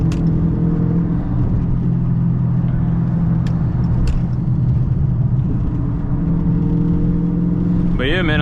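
Dodge Charger Scat Pack V8 cruising, heard from inside as a steady low engine rumble and road drone throughout, with someone talking over it.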